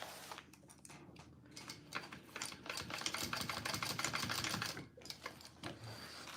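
Home sewing machine basting fabric for a clutch bag: a faint, rapid stitching whir that builds, runs steadily for a few seconds, then slows and stops.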